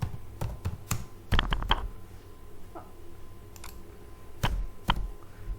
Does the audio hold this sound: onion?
no